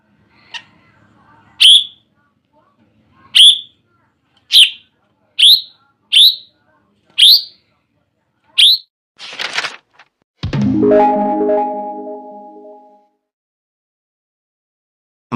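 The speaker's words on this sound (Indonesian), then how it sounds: "suara srintel agak mirip dengan cucakrawa" A srintel bird sings a series of sharp, evenly spaced whistled chirps, loud and close, followed by a brief burst of noise and a longer buzzing, harmonic call; no voices.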